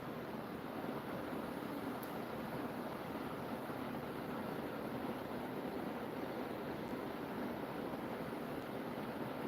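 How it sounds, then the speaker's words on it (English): Steady running-water sound from a projector screensaver, a continuous broadband wash like flowing water or surf with no voices, even and unbroken throughout. "Running water screensavers."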